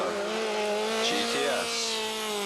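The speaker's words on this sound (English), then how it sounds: "And Janusz Kujaninski in the Toyota Corolla" A Toyota Corolla GTS rally car at speed on a forest stage in the 1989 Rally of the Tall Pines, its engine a sustained high-pitched whine with rising revs and a brief tire squeal, heard at moderate distance.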